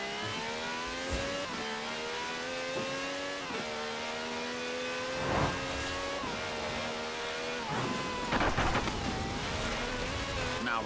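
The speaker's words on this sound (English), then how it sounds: "This has a V12 with over 750 horsepower" V12 car engine of over 750 horsepower, drifting in Forza Horizon 4, drones steadily with rising and falling revs and gear shifts, tire squeal and brief bursts throughout, loud and continuous.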